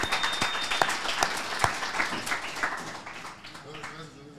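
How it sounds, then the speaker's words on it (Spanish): Live podcast audience gives brief scattered applause, a cluster of irregular claps with some voices mixed in, fading out over the last second. "No, un aplauso aquí para el compa niño,"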